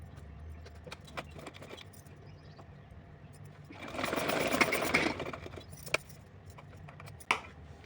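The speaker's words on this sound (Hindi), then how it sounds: "इसको थोड़ा सा इस तरह से हम तिरछा सिलाई लगाएंगे।" A sewing machine runs a burst of stitching across fabric on a diagonal while a child-sized nightdress is sewn, with quiet handling clicks before and after.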